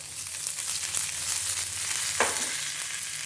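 Chana dal, urad dal, cumin, torn dried red chilli and curry leaves fry in hot oil as a tempering for coconut chutney, giving a steady close sizzle with one brief louder stirring burst partway through.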